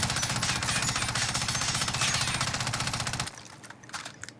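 FFAR assault rifle firing in Warzone, a rapid sustained burst of automatic gunfire at close range lasting about three seconds, then stopping abruptly into quieter game ambience.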